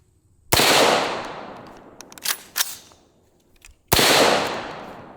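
Two sharp gas-powered shots from a Kali Key device, loud and close, each followed by a long decaying tail, with faint handling clatter and clicks between them.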